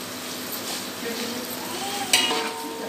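Onions hiss and sizzle as they fry in a large pot on a low stove for dum biryani, a steady crackle with a brief scrape of stirring near the end.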